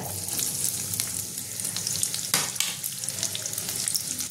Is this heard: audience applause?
no